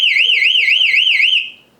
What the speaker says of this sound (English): One of the cool features about this is actually you can sound an alarm.